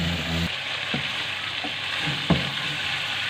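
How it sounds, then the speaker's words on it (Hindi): Chicken sizzles steadily while being fried for chicken karahi, a continuous bright hiss punctuated by a few soft stirring knocks against the pan. "चिकन अच्छी तरह भून लेंगे"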